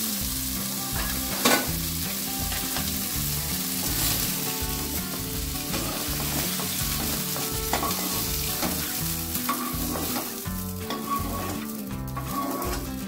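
Ridge gourd pieces fry in a pan, giving a loud, even sizzle broken by frequent rhythmic stirring scrapes, heard up close with no speech.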